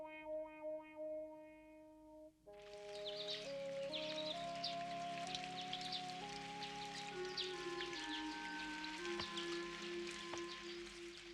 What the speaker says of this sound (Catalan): es posa a ploure